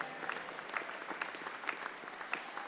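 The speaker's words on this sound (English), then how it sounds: "Give Tom James a big round of applause." A crowd at a Spurs Hall of Fame induction ceremony gives steady, moderately quiet applause, with individual claps popping out at a regular rhythm through the continuous clapping.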